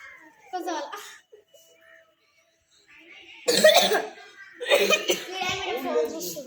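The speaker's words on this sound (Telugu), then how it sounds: "దగ్గుతున్నావేం రా?" A child coughs in a couple of sharp bursts close by, mixed with brief voices and giggling.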